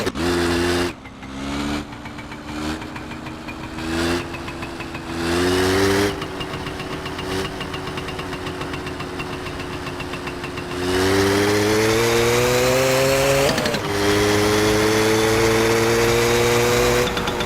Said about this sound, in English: That didn't take too long to get to the post office on the moped